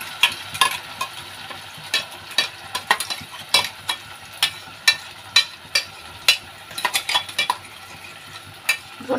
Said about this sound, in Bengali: তো সাদা তেল অল্প পরিমাণে দিয়ে জাস্ট এটা নেড়ে নেব।